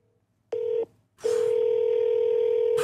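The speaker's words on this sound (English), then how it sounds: "Tina, pay your phone bill and answer the phone." Telephone call tones from a landline: a short steady tone, a brief pause, then a long unbroken dial-type tone that holds loud and close to the end, with no talking.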